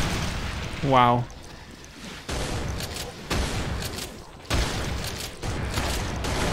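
Rocket launcher blasts in the Brutal Doom mod of Doom (1993): a run of loud, booming explosions follows one another about once a second, each a broad rumbling burst, with a brief exclamation from a man just before they begin.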